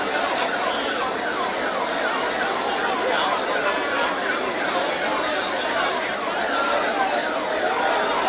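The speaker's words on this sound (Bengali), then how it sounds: "একটা অ্যাম্বুলেন্স দেখতে পাচ্ছি" An ambulance siren wails steadily and loudly through a dense crowd at a Diamond Harbour election rally, with constant crowd chatter and street noise layered over it.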